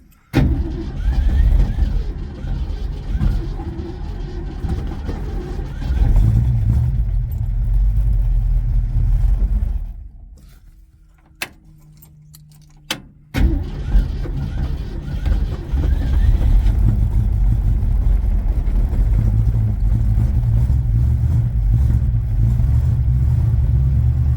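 A Ford Mustang parked outdoors in freezing cold runs with a steady low engine rumble, drops to near silence briefly, then fires up again with a couple of sharp clicks and resumes a loud, continuous idle.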